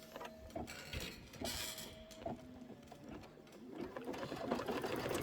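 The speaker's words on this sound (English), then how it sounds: "this is going to be 3 minutes of stitching" An embroidery machine stitches a snowflake and star design with a fast, rhythmic needle clatter that runs continuously at close range, with no talking.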